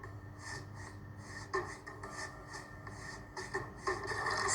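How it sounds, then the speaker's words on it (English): Two hands rub the wrists during handwashing, making a soft, close, rhythmic swishing friction in repeated strokes over a faint steady background. "Rub wrists."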